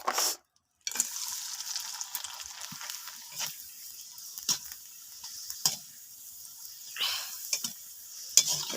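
Rice-cake pitha frying in hot oil, a steady close crackling sizzle with scattered sharper pops and ticks throughout, briefly dropping out near the start.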